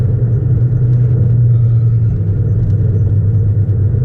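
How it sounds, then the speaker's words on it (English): Low, steady engine drone from a 2004 Nissan Sentra SE-R Spec V under way, heard from inside as a continuous rumble with a slight rise in pitch and no voices. "downshift to 5, downshift to 4"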